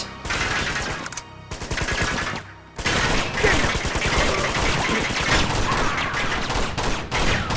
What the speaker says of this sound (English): Someone's shooting at me from side.